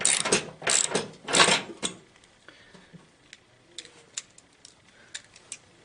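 A 9/16 wrench loosens bolts on a Toro two-stage snow thrower: three loud, close bursts of ratcheting clicks, then quieter scattered metallic ticks and clinks.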